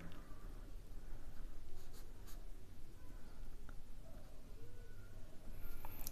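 Pen scratching steadily across paper while a geometry proof about similar triangles is written out, close and continuous with short pauses between strokes, no talking.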